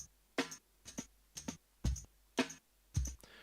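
Rearranged slices of a drum break triggered by MIDI notes, seven separate punchy hits with tight cymbal tops and low kick weight, spaced evenly about half a second apart, dry and close.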